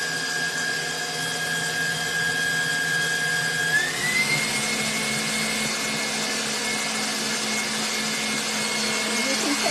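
An electric mixer whips egg whites for a chocolate milk cake, a loud steady whir whose pitch steps up partway through, with a person talking over it.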